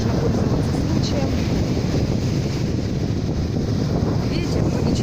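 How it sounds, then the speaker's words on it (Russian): Wind sweeps across a seaside beach in Lazurnoye in a dense, steady rumble against the microphone, with faint surf beneath and no break in the noise. "Ветер, но ничего страшного"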